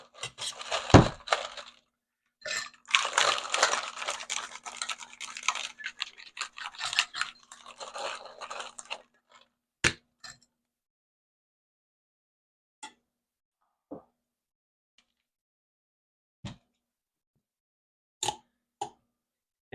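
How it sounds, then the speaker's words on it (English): Ice cubes tumble and clatter into a Yuzu Sake Highball in a busy rattling burst for several seconds, then a handful of sharp, isolated clinks follow sparsely with quiet gaps between them. "let's get some more ice in there"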